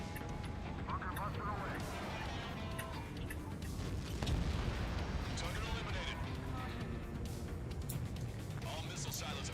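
Missile silos are destroyed in the flight game Ace Combat 7: Skies Unknown, with continuous rumbling booms and dense battle noise under a talking voice.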